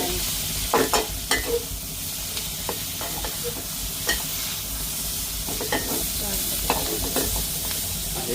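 Onions and green chillies frying in a pan, a steady sizzle punctuated by repeated sharp scrapes and knocks of stirring, close and fairly loud, with no voices.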